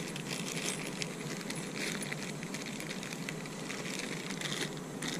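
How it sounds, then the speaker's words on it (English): Metal bolts and loose hardware rattle and clink inside a bag, a steady jangling with busy crinkly noise throughout, fairly quiet and close, no voices. "Bag of bolts and hardware."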